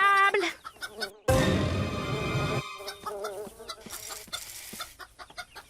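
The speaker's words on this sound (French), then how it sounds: "Et maintenant, les poules." Chickens cluck and squawk close by, with one loud burst of flapping or scuffling in the middle, then softer clucking continues.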